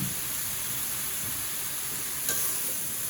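Vegetables including pumpkin with green chillies and a splash of water being stirred in a pan, a steady hissing sizzle with a single brief clink partway through.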